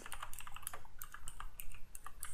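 Fast typing on a computer keyboard, a quick uneven run of close, crisp key clicks with no voices.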